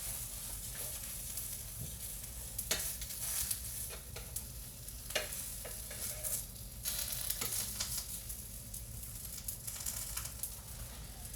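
Continuous crackling sizzle of food frying in a hot pan, with sharp intermittent pops scattered throughout and no voices.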